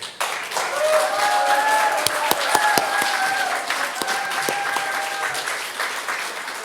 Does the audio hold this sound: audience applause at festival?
yes